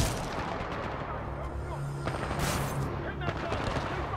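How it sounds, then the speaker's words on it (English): Gunfire in the shooter game Titanfall 2, a dense, continuous barrage of shots and blasts with a burst around the middle, mixed with game effects and some voice underneath. "Who's shooting at me?"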